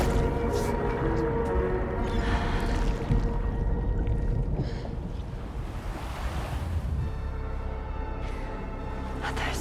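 Ocean waves wash steadily onto a beach in the Death Stranding 2 video game, a continuous dense surf roar with gusty wind noise and no speech.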